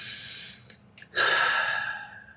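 A deep breath drawn in by a single person, a brief soft intake with a short pause, then a longer, louder airy exhale that trails off, heard alone.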